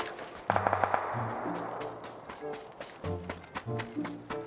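Gunfire in the video game PUBG: Battlegrounds crackles in quick bursts, a rapid string of sharp shots followed by more scattered pops and thuds.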